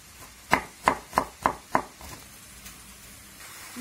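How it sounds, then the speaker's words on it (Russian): A knife chops garlic finely on a cutting board while food fries nearby: five sharp, evenly spaced taps close up, then a faint steady sizzle continues alone. "мы измельчим чесночок"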